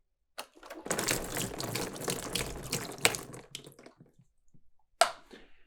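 Water pours onto a homemade water wheel built from a plastic bottle, a steady splashing rush for a few seconds with a couple of sharp knocks, close by and without talk.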